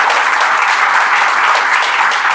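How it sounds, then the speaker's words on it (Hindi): A crowd of people claps, a loud, dense and steady wash of applause with no individual claps standing out, filling the whole short stretch without a break. "ताली बजा दी यार।"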